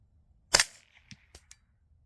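A single suppressed 9mm subsonic shot from a 16-inch AR barrel fitted with an R9 silencer gives a sharp, fairly quiet crack, followed by a few faint ticks and a short ringing tail in a quiet outdoor setting.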